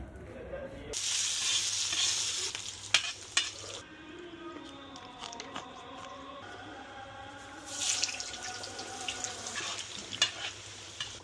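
Lamb tail fat rendering into cracklings in a pan, bursts of loud hissing sizzle separated by quieter stretches with light stirring and scraping.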